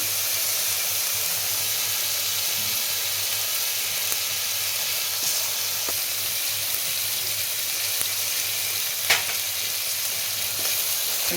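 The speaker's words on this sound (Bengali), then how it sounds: "মশলাটা ভাজবো" Ground cumin and coriander spice paste fries in hot oil for Bengali doi katla, making a loud, steady, close sizzle with an occasional faint stirring click and no talk.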